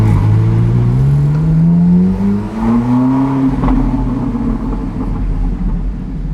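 A Ferrari engine with its exhaust valve open roars close by, the pitch climbing steadily through a rev, then dipping and rising again in a loud, rough exhaust note.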